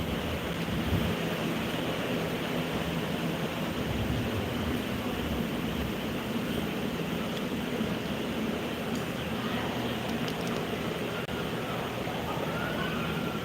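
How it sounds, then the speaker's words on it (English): A river in Helen, Georgia rushes in a constant, broadband roar of flowing water, steady and fairly loud throughout, with faint scattered sounds over it. "So this is what the river looks like down this way."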